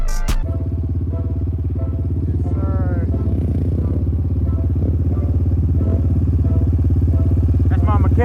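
A motorcycle engine idles and runs loud and close in a steady low rumble throughout while bikes are tested at a mechanic's, with people talking over it.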